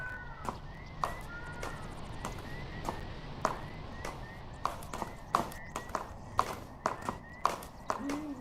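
A horse gallops in the video game Stars End: quick, irregular hoof clops ring out at mid-distance over a quiet outdoor ambience with faint bird chirps.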